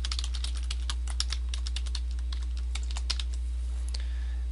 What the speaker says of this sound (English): under advanced options you can type in your website name